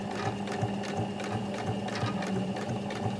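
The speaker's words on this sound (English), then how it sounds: "Now, sew quite slowly." A domestic sewing machine stitches a twin needle hem at a slow, steady pace, giving a continuous close mechanical whirr with a regular rapid stitching rhythm throughout.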